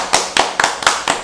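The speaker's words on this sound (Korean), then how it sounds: "박수 한번 치고 시작하죠." A small group claps several times together, a short close burst of sharp claps at an event for car-care products.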